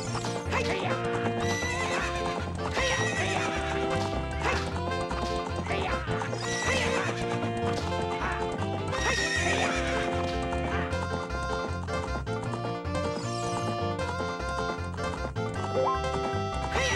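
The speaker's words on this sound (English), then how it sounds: "How about another race? If you win, you can keep the horse." Ocarina of Time race with a horse: hoofbeats clip-clop steadily through the gallop, and several loud neighs and whinnies come up over continuous game music.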